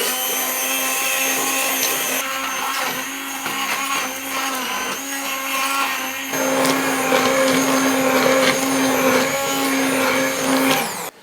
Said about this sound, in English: So I've got my stick blender, I'm going to whiz it all up.